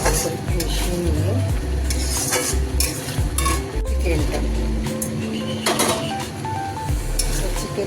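Chili chicken with honey stirred in a pan, a spoon scraping and clacking against the metal in repeated strokes over a soft sizzle, while someone talks over the cooking.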